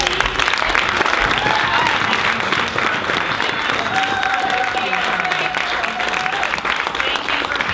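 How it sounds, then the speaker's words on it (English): An audience at a live arts event in a historic theatre applauds performers with loud, dense clapping that runs steadily the whole time, a few whoops and crowd murmur mixed in. "Can we applaud one more time?"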